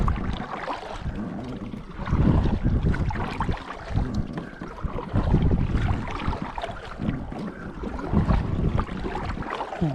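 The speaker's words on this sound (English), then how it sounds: "Paddling in the Saluda River today." Paddling on the Saluda River on a warm, slightly windy February day, with steady water wash and wind buffeting the microphone throughout and no talking.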